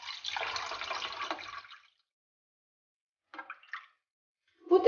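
Water poured into a bowl for sourdough bread dough, a steady close splash lasting nearly two seconds. After a pause come a few brief clinks and trickles, then a louder splash at the end.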